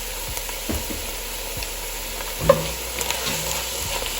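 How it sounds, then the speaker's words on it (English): Okra with sprinkled Creole seasoning sautés in a pan, making a steady close sizzle under a few soft utensil knocks and scrapes, with one sharper clink partway through and no voices. "So here, we're sauteing our okra, and you know, a lot of the slime is like cooking off."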